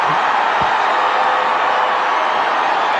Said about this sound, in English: A 6 to Kohli.